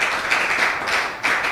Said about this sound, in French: Est-ce qu'on peut applaudir Monsieur Al ce soir?